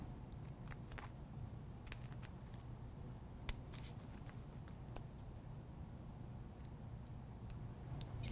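Small scissors or a craft blade snip slits into a vinyl cutout with transfer tape applied, giving sparse quiet clicks and short cuts over a low steady hum.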